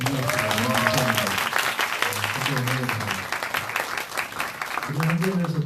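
Congregation applause during a church worship service in Seoul, a loud sustained round of clapping throughout, with someone speaking over it.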